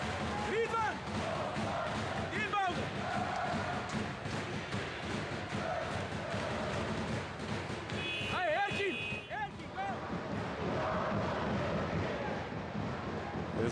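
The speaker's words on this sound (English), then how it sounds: "There's the Banvit crowd." The Banvit home crowd at a basketball game, a dense roar of cheering and chanting in a busy arena, with thuds and bursts of noise and a commentator talking over it.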